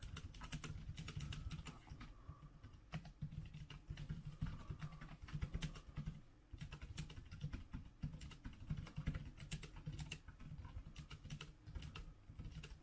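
Rapid, quiet clicking of keys on a low-profile scissor-switch keyboard, the Voamoko TK Board Pro, continuous typing with irregular rhythm and occasional brief pauses, recorded up close.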